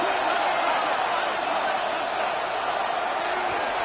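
A stadium crowd at a Chiefs at Bills NFL game roars in a broad, sustained wall of distant cheering as third down approaches, steady and unbroken throughout.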